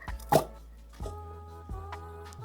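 A concrete candle pops out of a silicone mold with one soft, close plop, followed by two fainter dull knocks and quiet surroundings.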